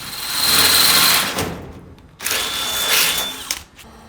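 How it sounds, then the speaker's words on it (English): A power drill boring a hole in a workbench whines in two bursts, the first running about a second and a half, then a short pause before a second steady run of similar length, fairly loud and close. "we'll drill this one out, and then we'll test it"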